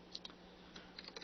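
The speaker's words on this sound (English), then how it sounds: "Right, typing." Faint keystrokes on a computer keyboard, a few scattered clicks over a steady low hum with no talking.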